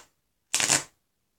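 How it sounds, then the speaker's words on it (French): A deck of playing cards riffled through once in a quick, bright flutter lasting under half a second, close and fairly loud against silence. "Et je vais faire défiler les cartes."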